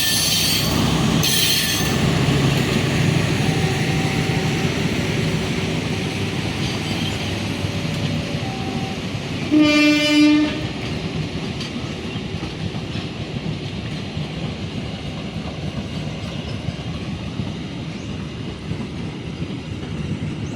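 A short commuter train pulls into Babat station with a long, steady rumble of wheels on rail, brakes squealing now and then, and a loud horn blast partway through, with no talk over it.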